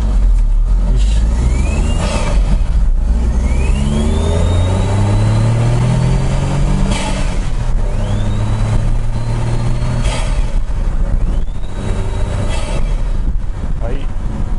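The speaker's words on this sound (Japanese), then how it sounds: "ここを曲がってもう一回加速してみます" Honda S660 fitted with a BLITZ air cleaner accelerating hard after a turn, window open, engine note climbing through repeated gear pulls with a loud, steady drone and intake rush throughout.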